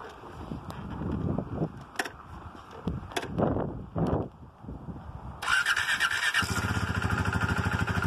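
Close clicks and rattles come first, then a motorcycle engine catches on its first start and settles into a loud, steady idle.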